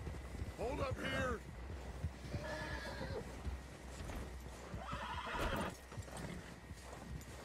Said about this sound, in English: Stop hitting my horse, Dutch.